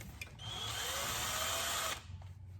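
A power drill bores through a marked hole while fitting windscreen washers to an old ute in a shed, a single steady whirring run of about one and a half seconds, close and fairly quiet, starting and stopping cleanly.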